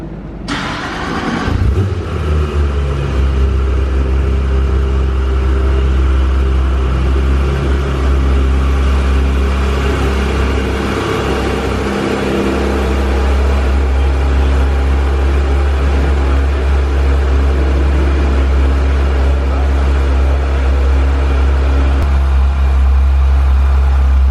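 A junkyard car's engine fires up after a brief starter whirr, then settles into a steady, loud low idle that drones on evenly and close by, with no talk over it.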